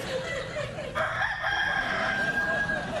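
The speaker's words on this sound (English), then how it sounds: "Corky Buttermilk, a monkey that sounded like a chicken." A rooster-style crow presented as coming from a monkey, a single sustained cock-a-doodle-doo call heard loud and close over a busy background.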